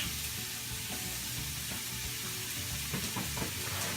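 Ground taco meat fries in a little olive oil in a pan, sizzling steadily and close by with a constant crackling hiss and a few soft stirring knocks. No one speaks.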